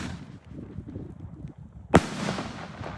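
Srpyro Kick Boxer and Power King 48mm firework launchers firing in an open field, a loud sharp burst near the end that echoes off the surroundings, following a low rumble of distant crackling shots.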